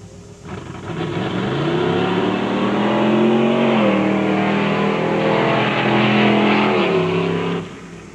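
Race cars roaring around a track in a close race won by a blue Ford, a steady loud engine drone with rising and falling revs as the cars sweep past, sustained for several seconds without talk.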